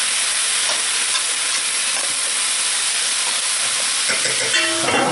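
Vegetables and a hot pepper sizzle steadily in hot oil, a loud continuous hiss with faint stirring clinks near the end and no talking.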